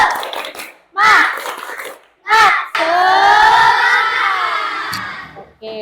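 A school class doing a rhythmic clapping chant: short bursts of children's clapping and shouting in quick succession, then a long, loud group shout that holds for a few seconds, close by in a classroom.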